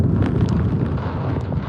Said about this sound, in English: Probably some of the strongest gusts we've seen so far.